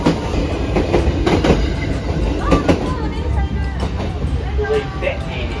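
A 23-series local electric train passing on the Sanin Line, a loud, close rumble with rhythmic wheel clatter and brief squeals, under a running spoken commentary.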